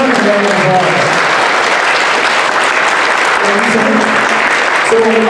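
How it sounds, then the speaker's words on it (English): A convention audience at a sci-fi and writing convention opening ceremony breaks into loud, sustained clapping, with a speaker's voice briefly audible at the start and again as the applause continues. "let's give all the people who made this happen a round of applause"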